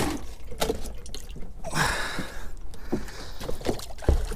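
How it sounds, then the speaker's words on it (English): Water is poured and splashes into a container while fishing for triggerfish. Faint, irregular sloshes and drips come close up, with a louder splashing burst in the middle and a few soft knocks, and no talking. "Let me get a bit of water in here."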